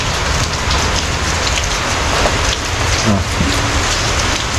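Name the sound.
rain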